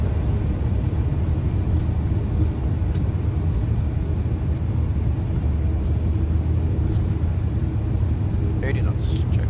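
Boeing 737 engines building thrust on the takeoff roll from Rotterdam runway 24, a loud, steady, low rumble heard from inside the flight deck.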